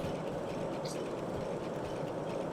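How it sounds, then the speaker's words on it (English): A diesel locomotive runs along the track in the Derail Valley train game: a low, continuous engine rumble mixed with faint rail clatter, fairly quiet and with no talk. "Engine's running."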